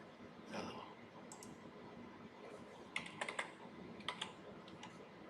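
Typing on a computer keyboard that seems faulty, faint clusters of quick key clicks in short bursts in a quiet room.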